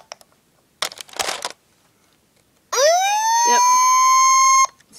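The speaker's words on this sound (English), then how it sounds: "it has caught the F2 siren" A few soft rustling bursts, then a toy 2000 Hess fire truck's F2 siren winds up from a low growl to a steady high wail, holds for about two seconds and cuts off.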